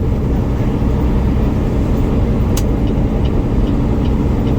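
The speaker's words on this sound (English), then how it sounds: "Oh, that is awesome truck." A hay-hauling truck rumbles past on the road, a loud steady roar of engine and tires with a faint hiss partway through, heard from inside a moving truck cab.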